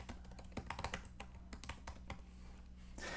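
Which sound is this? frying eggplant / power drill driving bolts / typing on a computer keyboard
typing on a computer keyboard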